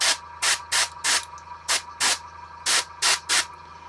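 An airbrush sprays out paint in a series of short hissing bursts, about ten close, loud puffs in an uneven rhythm with brief quiet gaps between them.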